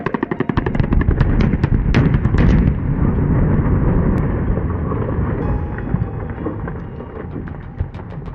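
A huge rock blocking a California highway is blown apart by a blast: a loud, sustained roaring rumble with sharp crackling bursts at the start, rolling on steadily and staying near and heavy throughout.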